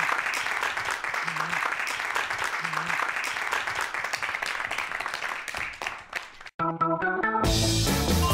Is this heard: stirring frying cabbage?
no